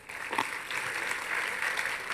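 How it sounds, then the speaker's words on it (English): Audience at a medical conference applauding as speakers gather on stage for a photograph, a steady, moderately loud patter of many hands clapping, with one brief voice near the start. "A big round of applause,"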